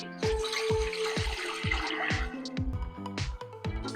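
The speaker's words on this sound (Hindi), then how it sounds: "1 लीटर में पानी डाल रहा हूँ" About a litre of water goes into a cooking pot while preparing oil-free pakora, heard as close, uneven splashing and dripping with resonant metallic plinks running through the whole stretch.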